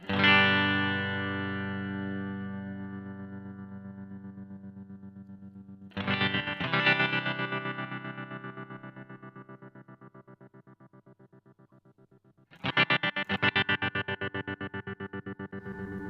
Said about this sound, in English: Let's go back to our standard tremolo.